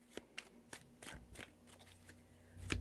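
Tarot cards are shuffled by hand in a quiet room, a series of soft riffling and slapping bursts at uneven intervals, close and faint, ending in a louder shuffle.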